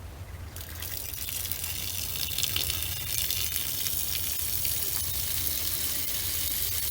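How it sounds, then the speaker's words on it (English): Water pours steadily from a water tower holding about 165 gallons, a continuous broadband rushing flow that stays loud and even throughout with no talk over it. "So let's show you the old water flowing with 165 gallons."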